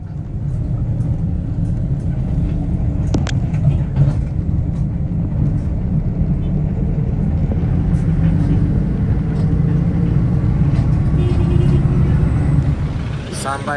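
Steady low road rumble inside a bus travelling from Lampung toward Jakarta, with engine drone and a few clunks, under occasional talk.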